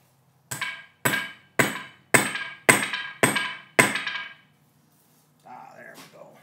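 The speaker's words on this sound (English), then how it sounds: "I'm going to pound it on the floor." A sledgehammer pounding a lightning rod into the floor: seven heavy, ringing metallic blows at a steady pace, each decaying briefly. A short quiet voice follows after the strikes.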